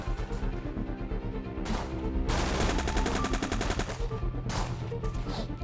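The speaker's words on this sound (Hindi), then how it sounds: "गोलियां चल रही हैं" Rapid bursts of gunfire crackle loudly, volleys of automatic shots rattling in dense clusters with brief pauses between.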